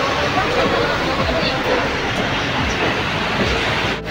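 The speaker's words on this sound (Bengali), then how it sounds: "ট্রেন আমাদের সঠিক রাইট টাইমে ট্রেন আমাদের ছেড়ে দিল শিয়ালদা স্টেশন থেকে" The Lalgola passenger special train pulls out of Sealdah station with a loud, steady rumble and rattle, mixed with a faint babble of passengers' voices.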